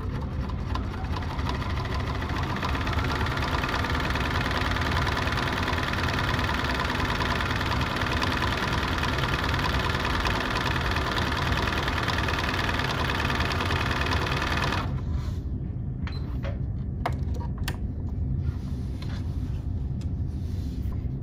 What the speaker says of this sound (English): now we're just gonna do a regular straight stitch